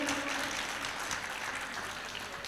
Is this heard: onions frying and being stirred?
no